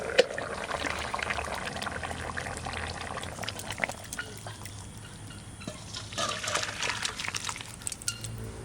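Liquid is poured and sloshes into a pan while a potato curry with a 4 kg sea fish and cumin paste is being cooked, giving an uneven trickling and splashing close by with kitchen clatter.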